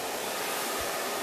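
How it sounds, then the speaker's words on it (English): A hair blow dryer runs steadily while hair is brushed with a paddle brush, a loud even rushing roar of air filling the whole moment without any talk. "Turn on the blow dryer."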